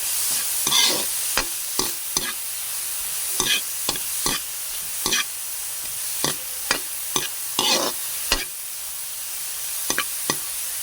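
Grilled squid sautéed in a pan with ground pork, carrots and tomato gives a steady, close sizzle broken by a dozen or so sharp scraping stirs of a utensil against the pan, with no one talking.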